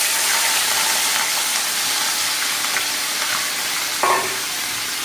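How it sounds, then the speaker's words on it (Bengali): Chicken mince frying in hot oil makes a loud, continuous sizzle with occasional stirring scrapes and a brief clatter near the end, no voices. "এবার আমি কিমাটাকে তেলে দিয়ে দেব।"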